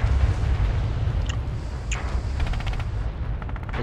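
Gunfire in the World War II shooter Red Orchestra 2 crackles over a constant battlefield rumble, with a few sharp single reports followed by a tight rapid burst of shots.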